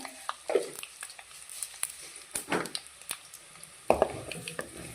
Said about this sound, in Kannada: ಈಗ ಸಾಸಿವೆ ಸಿಡಿಯಕ್ಕೆ ಸ್ಟಾರ್ಟ್ ಆಗಿದೆ